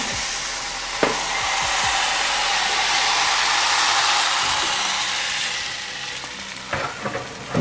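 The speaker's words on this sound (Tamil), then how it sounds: "இப்போ வந்து நல்ல வடிவாக சட்டி சூடாகிட்டுது இனி வந்து நாங்கள் பாலப்பதே சுடுவோம்" Batter for palappam, coconut-milk hoppers sweetened with sugar, hits a hot pan and sizzles in a loud, steady hiss that fades slightly near the end, with a few clinks of the pan.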